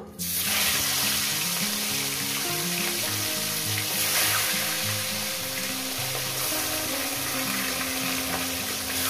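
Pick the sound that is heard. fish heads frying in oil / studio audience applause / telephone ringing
fish heads frying in oil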